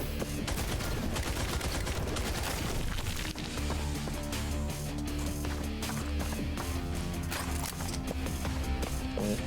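Sustained rapid assault rifle fire in the video game Holy Shoot, loud and continuous bursts layered over a dense game soundtrack and effects throughout.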